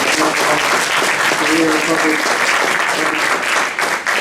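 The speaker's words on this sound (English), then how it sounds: "Let's give him a round of applause" A congressional hearing audience gives a sustained round of applause, dense and loud from start to finish, with clapping tapering slightly at the end.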